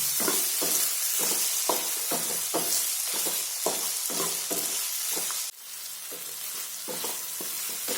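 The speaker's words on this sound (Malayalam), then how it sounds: "ഈ മസാലയിൽ ഉരുളക്കിഴങ്ങ് ഒരു 2 മിനിറ്റ് ഒന്ന് വഴറ്റണം." Potatoes tossed in masala in a pan give a steady loud sizzle broken by rhythmic scraping strokes of a spatula, about two per second, pausing briefly before resuming; no voices.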